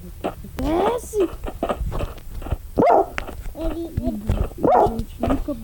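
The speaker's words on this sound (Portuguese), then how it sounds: "Ai, que cachorro bravo" A video-game dog in Minecraft barks and growls repeatedly nearby, harsh and agitated, while a person talks over it.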